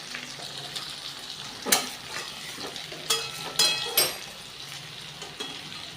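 Potato pieces frying in hot oil in a pan over a high gas flame, a steady close sizzle broken by several sharper crackling bursts as they are stirred.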